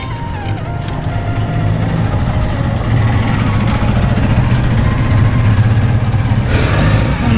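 A Raider 150 motorcycle with an Akrapovic muffler, its silencer cover removed, idling and revving loudly and close by, a steady throaty drone that swells slightly and holds for several seconds, with no voices.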